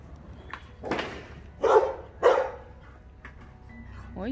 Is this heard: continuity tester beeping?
no